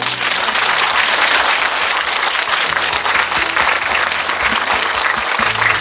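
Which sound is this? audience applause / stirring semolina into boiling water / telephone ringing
audience applause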